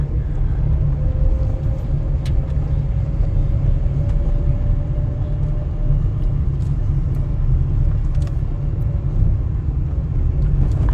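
A car drives along a public road near the village of Twee Riviere, giving a steady loud low rumble of engine and road noise from inside the vehicle that runs unbroken throughout the clip.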